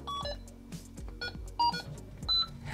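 A Brick Game handheld console plays its electronic start-up tune, a quick sequence of thin beeping tones and short blips in a bouncy rhythm, fairly faint and close, with no talking.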